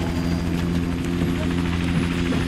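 A helicopter in GTA Online drones steadily with a constant throbbing rotor hum, loud and close throughout.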